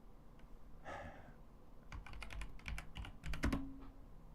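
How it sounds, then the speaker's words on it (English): Quick bursts of typing clatter on a new computer keyboard, with a soft rustle first and then rapid clustered keystrokes that grow louder toward the end. "I hate this fucking new keyboard."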